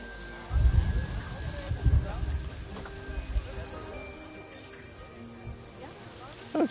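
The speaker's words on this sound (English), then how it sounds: "it is downpouring here" Heavy rain pours down in the Planet Zoo zoo-management game, a steady broadband wash with a few low rumbling surges in the first seconds, then an even, softer hiss that runs to the end.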